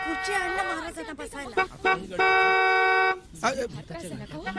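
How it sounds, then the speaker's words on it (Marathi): A car horn blares in a long, loud, steady blast of about a second, with shorter honks around it, while people talk over and between the honks. "अगं किती वाजवशील हॉर्न?"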